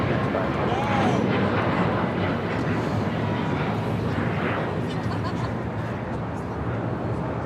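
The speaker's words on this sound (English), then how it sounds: "This is United Airlines 1395 taking off to Austin on a MAX 8" A United Airlines Boeing 737 MAX 8 takes off from LAX with a broad, continuous jet roar heard from a distance, holding steady throughout before easing off slightly toward the end.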